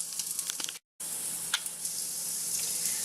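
Chopped onion sizzles in a pan for zucchini and potatoes over pasta, a bright continuous hiss broken by a brief dropout and a few clicks from a spoon stirring, with no speech.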